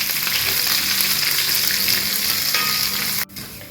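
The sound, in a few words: dried red chillies, curry leaves and cumin frying in oil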